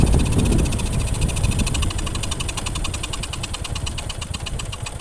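A Honda Supra X100 motorcycle engine idling close up, a steady rapid putter with a metallic knocking buzz, loud and constant throughout with no talk.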